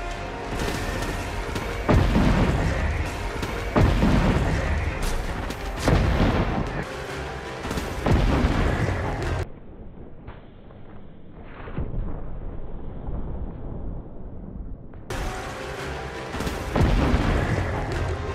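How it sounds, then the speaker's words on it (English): Repeated heavy booms and blasts in quick succession from cursed thrall explosions in Destiny 2 with the Bad Juju pulse rifle, loud and dense, with a brief quieter stretch before the explosions resume. "These are quite powerful explosions too, capable of dismantling an entire group of enemies."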